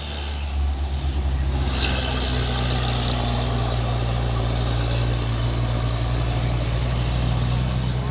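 A Fuso 6x4 dump truck labors on a hill, its engine a loud, constant low rumble close by, with a brief hiss near the start and no break in the drone.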